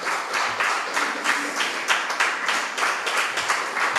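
Continuous crowd applause at a Tamil Christian sermon, many hands clapping at a steady, dense rhythm, moderately loud with no talking over it.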